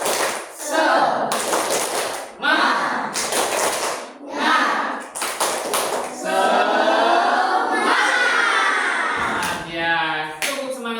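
A class of schoolchildren in Indonesia doing the rhythmic 'tepuk semangat' clap, bursts of loud group clapping broken by pauses, with the children chanting along in unison toward the end.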